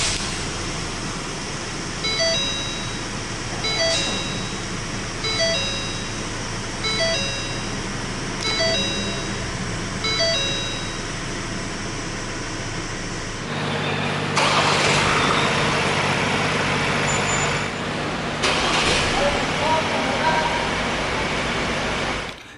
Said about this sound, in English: hit this engine start-stop button to fire up the engine